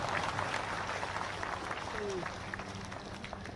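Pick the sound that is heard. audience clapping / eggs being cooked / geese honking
audience clapping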